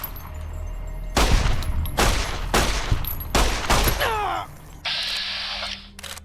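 Gunfire in Fallout New Vegas, with several loud bursts of rapid shots in succession followed by a short ringing mechanical tail, close and dominant, no talking.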